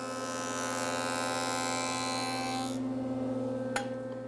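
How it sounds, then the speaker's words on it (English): A woodworking jointer flattens one face of a wood board with a steady, whining buzz that cuts off abruptly partway through, leaving a lower motor hum and a single sharp click near the end. "Step 1, we go to the joiner to get one flat face."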